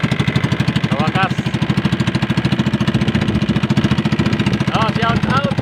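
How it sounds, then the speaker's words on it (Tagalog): A small fishing boat's engine at sea off Mabini, Bohol starts and runs with a loud, steady, rapid chugging throb close by, while people talk briefly over it. "papaandar na makina kay uwi na ng bahay"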